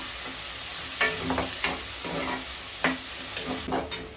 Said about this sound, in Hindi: और प्याज सॉफ्ट होने तक हम इसे पका लेंगे अच्छी तरीके से।